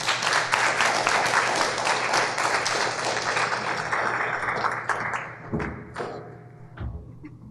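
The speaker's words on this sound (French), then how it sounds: "je vous inviterai à donner une bonne main d'applaudissements pour notre première conférencière aujourd'hui" A conference audience claps for the first speaker, a steady round of applause that thins and fades out toward the end, with a few thumps after it.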